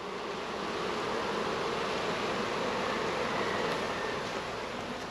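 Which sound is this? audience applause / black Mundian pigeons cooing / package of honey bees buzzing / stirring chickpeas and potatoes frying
package of honey bees buzzing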